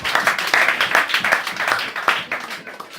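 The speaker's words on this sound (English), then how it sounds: "Clap for the Lord Jesus." A church congregation at a tabernacle service in Lusaka, Zambia claps for Jesus, a dense burst of hand claps that is loud and close at first and then thins and fades within a few seconds.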